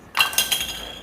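A screwdriver pries a light switch cover off a wall switch, giving two or three sharp, close clicks in quick succession that ring briefly.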